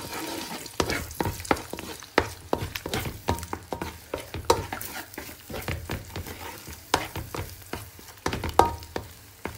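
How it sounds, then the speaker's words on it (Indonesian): Egg frying in a pan for Indonesian fried vermicelli (bihun goreng), left to crisp before being broken up: a steady sizzle of hot oil broken by frequent sharp scrapes and clacks of stirring, close up, with no talk. "ini telurnya ini dia biarin dia goreng dulu kan, biar dia goreng sampai garing dulu"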